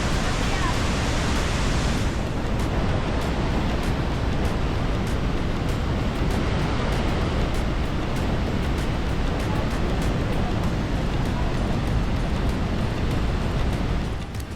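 Rhine Falls in Switzerland thunders as a loud, unbroken roar of falling water, close and steady throughout with no other sounds standing out.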